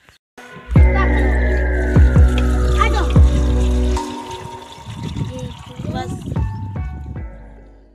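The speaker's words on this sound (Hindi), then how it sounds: "इसमें अभी पानी डालने वाले हैं" Water pours and splashes into a big pot of soybeans being soaked for cooking, a loud watery gush that follows a few seconds of steady droning tones and tapers off near the end.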